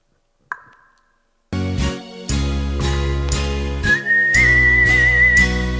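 Whistling at a music gathering, a clear sustained whistled tone that joins a loud, rhythmic instrumental passage, played alone without talk.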